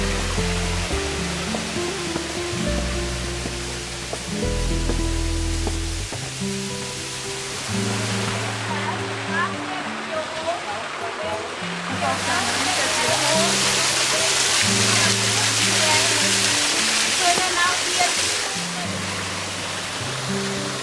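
Heavy rain pours down in Monte on Madeira, a dense steady hiss that stays loud throughout. Background music plays underneath, and there is no talk.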